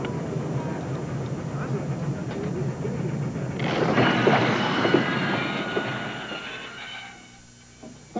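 The Venice Simplon Orient Express luxury train rolls along in a 1987 TV commercial: a steady low rumble and clatter swells louder midway with rattling wheels, then fades away toward the end, with a voice faintly present.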